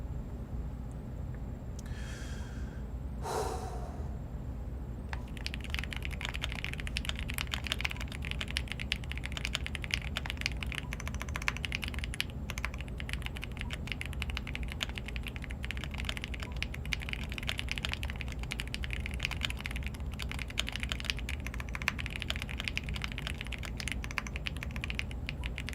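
Rapid, continuous keystrokes on a computer keyboard during a typing race, a dense steady clatter running close and loud for most of the stretch after a few quieter opening sounds.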